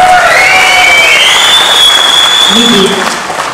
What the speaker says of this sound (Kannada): ಈ ಸಂದರ್ಭದಲ್ಲಿ ಕಾಶಿನಾಥ್ ಸರ್ ಒಂದು ದೊಡ್ಡ ಚಪ್ಪಾಳೆ ಹಾಕ್ತಾರೆ.